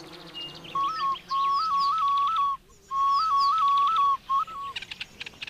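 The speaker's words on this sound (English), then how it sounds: "people can actually call up a honey guide by using a snail shell whistle" A snail shell whistle blown to call a honeyguide bird gives several short, stepped, wavering whistled phrases with brief gaps between them, while faint bird and insect sounds carry on in the background.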